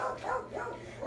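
Dogs barking indoors near a kitchen sink, a short burst of two or three quick, moderately loud barks in close succession with no talk over them.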